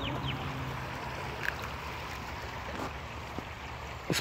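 Quiet, continuous wash of a river flowing in a peaceful nature park, a soft steady trickle heard from nearby with a few faint clicks and no talking.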